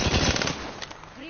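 Rapid automatic gunfire in an Apex Legends battle royale match, a dense loud burst of shots that tails off after a fraction of a second, with a voice under it.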